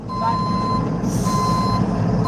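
A truck backing in sounds a steady series of loud, high reversing beeps, each tone repeating at an even pace over a constant low engine and road rumble, with no talking.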